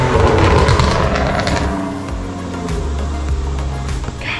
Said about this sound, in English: People always fly up and down this road all the time.